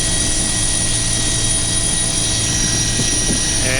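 A Bell 412 helicopter hovers during winch rescue training with the NSW Rural Fire Service, its rotor and turbine roar loud, close and continuous with no voices.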